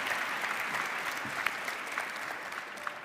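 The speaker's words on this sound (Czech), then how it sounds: "můžete jim také zatleskat" Audience applause for the magazine editors at a gala evening in a grand Prague hall, a dense, steady clapping from a large crowd that holds at an even level for the whole stretch.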